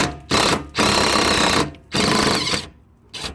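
Impact wrench undoing a bolt on a 2007 Ford Ka 1.3 petrol, in three loud, close bursts of hammering rattle separated by short pauses, with no talking.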